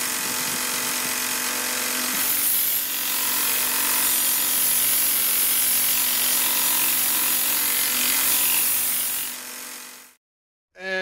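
A grinder set up on a back veranda works a forged knife blade, a close, loud, continuous whirring grind with a rough, rattling edge that holds steady for about ten seconds before cutting off abruptly.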